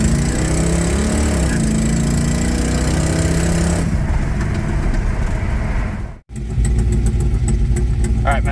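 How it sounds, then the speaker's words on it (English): A 1968 Mercury Cougar's engine runs steadily at close range, a continuous mid-pitched rumble that briefly cuts out before resuming. "Better make sure the engine's warmed up."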